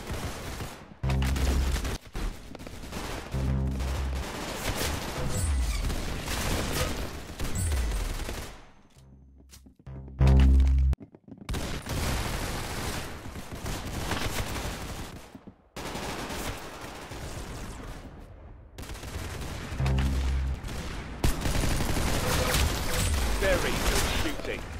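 Gunfire from a shooting session comes as loud, sharp reports in rapid bursts and fusillades, broken by short pauses, with a few voices between volleys.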